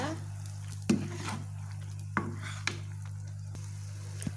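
Chicken is stirred while frying in a pan with pepper and seasoning, a soft sizzle running throughout with a few sharp scrapes and clinks of the utensil against the pan, close by.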